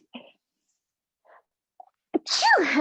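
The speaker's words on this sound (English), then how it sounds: "lying down makes me sneeze" A single sharp sneeze bursts out close by after a few small breaths, followed by a drawn-out vocal groan.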